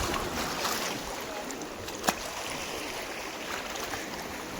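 Sea waves wash in a continuous broad rush on a Konkan shore at night during eel fishing with a rod, with one brief sharp knock partway through.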